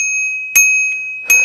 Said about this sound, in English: And a little bell.